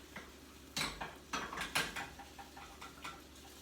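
Egg for an omelette pushed and stirred around a pan, giving a few distinct scraping clatters of utensil against metal, moderately close, spaced irregularly over a quiet background.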